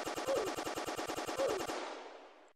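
Automatic gun in a VR first-person shooter game emptying a full magazine, a rapid evenly spaced string of about fifteen close shots, then a short fading tail.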